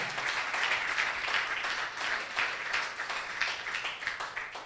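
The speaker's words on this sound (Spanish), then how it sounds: "Dele ese aplauso a la sangre del Señor Jesús." Congregation applause fills a church service, a steady wash of many hands clapping at moderate volume, continuous and even throughout with no voices breaking through.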